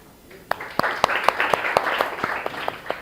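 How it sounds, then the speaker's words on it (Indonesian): A small class audience claps in a brief round of applause after a group presentation, with a dozen or so distinct sharp claps over a soft background murmur, moderately near. "Oke, semuanya tepuk tangan."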